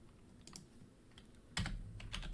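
Keystrokes on a computer keyboard during a coding session, a sparse run of soft taps followed by a quicker, louder burst of several close keys, with no speech.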